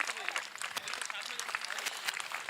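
Students in a classroom crowd give dense, steady applause, with speech faintly mixed in under the clapping.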